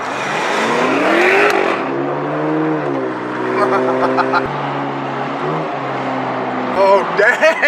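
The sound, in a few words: Mercedes car revving and accelerating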